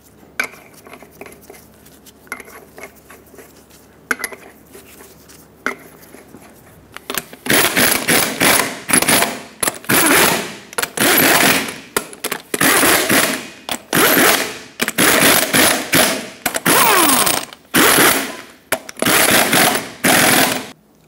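Lug nuts on a 2000-2005 Ford Excursion front wheel are run down in a cross pattern with an impact tool, loud repeated rattling bursts in a steady rhythm after quieter shop noise.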